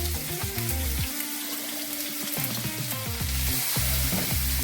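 Mustard seeds, cumin and green chillies crackle and sizzle in hot oil in a pan, a steady frying hiss with irregular popping and some clinking or stirring at close range.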